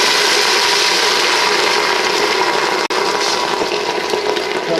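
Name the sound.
pouring red wine into a cooking pan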